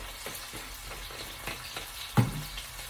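Two teaspoons of garlic sizzling in a frying pan, a soft, steady crackle close by with a few sharper pops and one louder spit, alone without talk.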